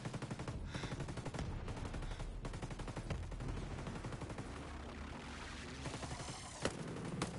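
Mortar fire in Ghost Recon Breakpoint, heard as a faint, steady run of rapid thumping shots with a couple of sharper impacts near the end, all at low volume.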